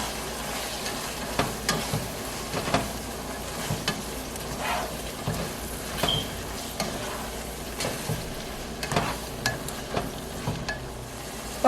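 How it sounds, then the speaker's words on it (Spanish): Onion and garlic sizzling in a pan with ground meat, a steady close fry punctuated by repeated scraping stirs of a spoon, no voices over it. "this is when I'm gonna add the cebolla and the garlic."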